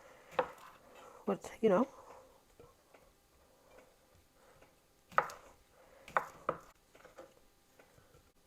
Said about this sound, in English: I think I'll cut my sausage up here.